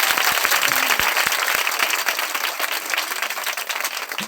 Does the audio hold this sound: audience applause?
yes